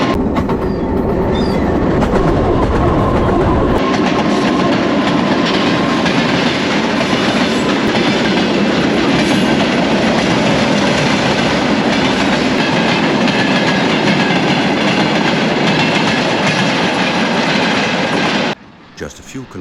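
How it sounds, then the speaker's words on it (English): An old diesel cargo train rumbles past close by in Kazakhstan, a steady loud roar of engine and rolling wagons with rhythmic wheel clatter, cutting off abruptly near the end. "It's an old diesel-powered cargo train."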